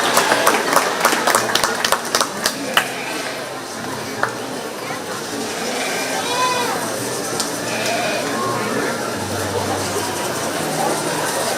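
Scattered audience applause at a 4-H/FFA goat show at the 2025 Shelby County Fair: sharp claps early on fade into barn noise, with goats bleating and people talking throughout.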